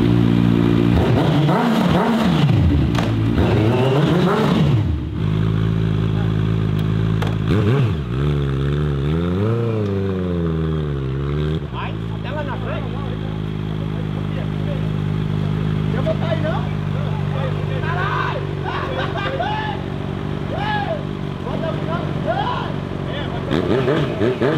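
A motorcycle engine fires up nearby and revs in several rising and falling surges, then settles into a steady idle rumble with occasional clatter.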